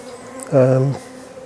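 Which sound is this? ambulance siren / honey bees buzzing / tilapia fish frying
honey bees buzzing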